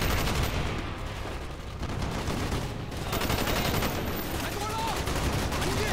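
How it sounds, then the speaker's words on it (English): Sustained, dense gunfire from an aircraft strafing run in the Call of Duty Black Ops campaign, a continuous loud roar of shots and explosions filling the whole stretch. "Stand by for strafing run."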